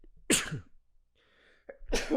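Two sharp sneezes, close and loud, separated by a brief quiet pause.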